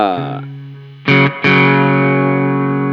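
An electric guitar played through a Nano Cortex with delay and reverb: a sustained distorted note fades, then two loud chords ring out and hang in a long, echoing tail, with no talk over it.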